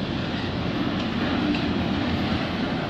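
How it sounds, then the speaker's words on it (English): A GO Transit commuter train rumbles steadily past at night near Bayview Junction, a continuous low roar of wheels and cars with no voices. "Oh yeah, it's a GO train, hey!"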